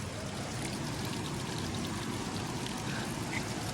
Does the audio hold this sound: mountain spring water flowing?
yes